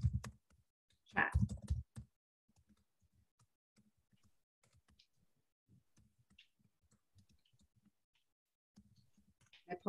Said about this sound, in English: I'll even type them in the